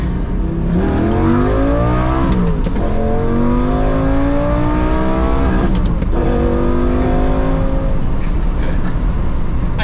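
A powerful Lamborghini engine revs loudly and continuously, pitch climbing through gear shifts with brief dips, heard from inside or very near.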